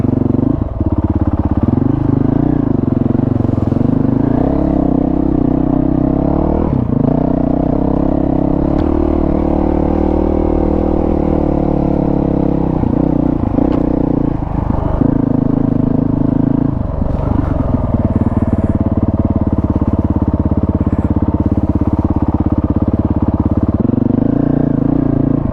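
A dual sport adventure motorcycle rides in first gear on a trail loop in Shropshire, its engine droning steadily and loud throughout with shifting revs and clatter, and no talk over it.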